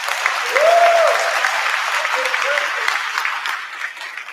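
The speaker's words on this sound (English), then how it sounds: "let's give that an applause." Convocation audience at Governors State University breaking into sustained applause, a dense wash of many hands clapping throughout with a voice briefly audible over it early on.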